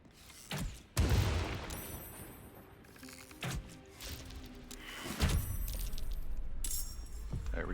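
Gunfire and impact bursts from combat in the video game Baldur's Gate 3, several sharp, loud shots and booms scattered across the passage with clinking effects and a steady background ambience between them.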